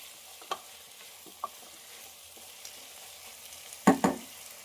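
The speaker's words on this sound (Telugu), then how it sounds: "టమాటాలు వేసుకున్నాక ఒకసారి మొత్తం కలిపేసుకొని మూత పెట్టుకుందాం" A spoon stirs tomatoes, potato and drumstick curry in a pan: quiet, sparse scrapes and taps, then a louder double clatter of utensil against metal near the end.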